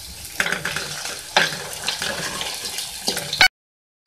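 Chopped onions fry in oil with ginger garlic paste for a beef karahi, a close sizzle punctuated by several sharp stirring scrapes against the pan before cutting off abruptly.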